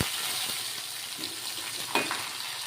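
Onions sautéing in a pan, a continuous soft sizzle up close with a couple of small stirring knocks, no talking.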